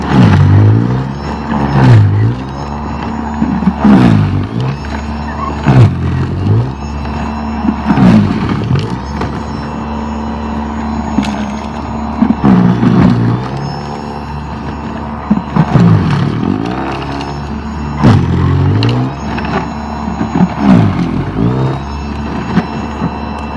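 An Ego 56V battery snow blower churns through 15 inches of deep snow, a loud steady whirring motor that surges repeatedly with clattering thumps as it bites into heavy drifts, continuous and close throughout.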